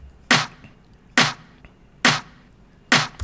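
Four sharp snare drum hits played alone at a slow, even pace, each a bright crack with a short noisy decay, close and dry.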